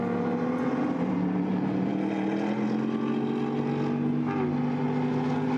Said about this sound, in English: Makes a great sound. Presumably that's straight 6 in the BMW